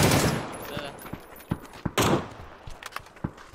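An AK rifle fires in a video game, with bursts of loud sharp shots at the start and then scattered single cracks and short volleys, accompanied by faint footsteps.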